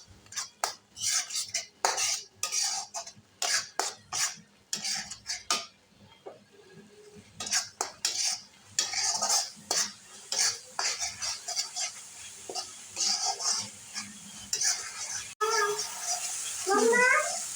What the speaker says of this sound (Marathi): मसाला चांगला तेल सुटेपर्यंत भाजून घ्यायचे